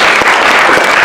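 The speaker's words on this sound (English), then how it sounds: "please round of applause for them" A high school audience at a mock presidential primary debate claps steadily in a dense, loud burst of applause with no talk over it.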